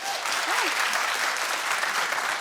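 Studio audience on a daytime talk show breaks into dense, steady applause that fills the whole moment at an even level.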